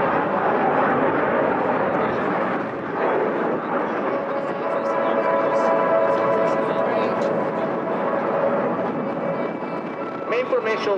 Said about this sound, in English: Aircraft side by side in 3 lines driving this giant inverted triangle